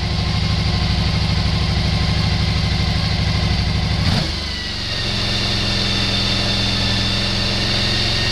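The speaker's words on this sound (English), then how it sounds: "Here my idle doesn't want to drop back down, so I'll adjust it." A Suzuki V-Strom 1000 DL1000 engine idles high and steady while its throttle bodies are synced, loud and close, then the pitch drops abruptly and it settles into a lower, even idle.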